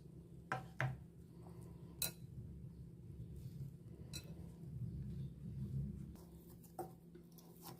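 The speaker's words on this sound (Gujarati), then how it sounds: "હવે પાણી ઉમેરીને લોટ મિક્સ કરીશું." Wheat flour dough for spiced parathas, seasoned with oil, salt, cumin and chili powder, is mixed with water by hand in a bowl, giving soft squishy kneading noises with a few sharp clinks of the bowl against other kitchenware. No one speaks.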